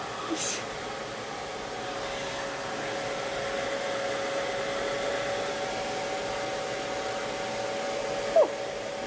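A hair dryer blows steadily on hair being dried, a constant close whooshing hum with a faint tonal whine running for the whole stretch, with a brief soft knock near the end.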